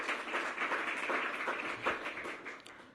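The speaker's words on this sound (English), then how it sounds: "Give her a round of applause" A crowd applauds the mayor at an outdoor ceremony celebrating the MLK Gateway in historic Anacostia, scattered clapping that holds steady for a few seconds and then starts to fade, moderately distant.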